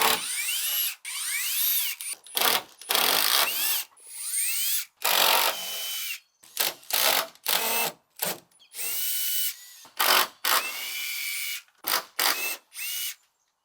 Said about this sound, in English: as we're pulling these screws out, they're stainless steel